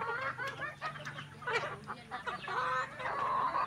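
Chickens clucking and squawking while being fed in a yard after rain, with a goose or duck honking among them, a busy overlapping flock close by.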